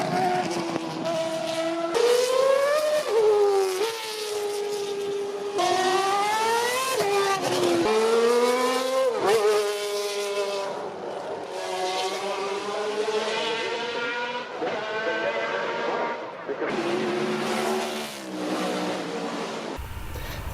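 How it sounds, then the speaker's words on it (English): Racing cars with internal combustion engines at the 2016 Goodwood Festival of Speed roar past in repeated loud bursts, engine pitch climbing and dropping with each gear change and pass, over a noisy outdoor crowd setting. "At the center of things at Goodwood is the internal combustion racing engine."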